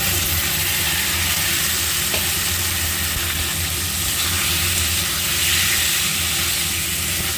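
Shrimp sizzle steadily in a hot pan, a dense, even hiss of frying that holds at a constant loud level throughout with no talking.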